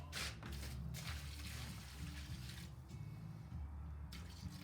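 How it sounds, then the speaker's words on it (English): Water being poured or run onto clay for recycling, a continuous splashing, trickling flow heard close by without talk. "just want to add the water."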